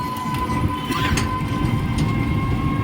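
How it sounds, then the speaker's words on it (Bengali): A train rumbles past close by in Kalyani, West Bengal, a loud, continuous roar of wheels on rails with faint clattering throughout. "এখন ট্রেন আছে"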